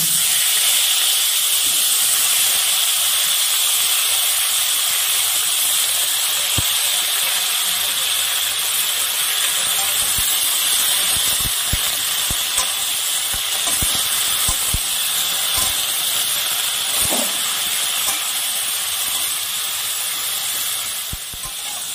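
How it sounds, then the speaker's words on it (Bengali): Pumpkin vine tips frying in leftover fish-frying mustard oil in a pan, a loud, continuous close sizzle and hiss with occasional crackles and pops, alone without talk. "আমি মাছ ভাজার তেলের মধ্যে মিষ্টি কুমড়োর ডগাটাকে একটু ভেজে নিব।"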